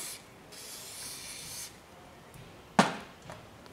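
Brush scrubbing the carburetor of a Yamaha XV 250 Virago motorcycle: a steady dry rubbing hiss in two strokes, then a sharp scrape or tap and a faint trailing brush sound, close up and with no voices.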